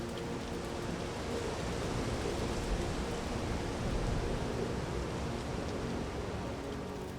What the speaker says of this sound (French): Le bruit de la pluie sur la tôle est assourdissant.